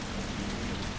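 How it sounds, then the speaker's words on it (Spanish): Heavy rain pours steadily in the video game Resident Evil 3 Remake, a dense, loud, unbroken wash of drops hitting surfaces with a low rumbling undertone. "Fijaos cómo llueve, ¿eh?"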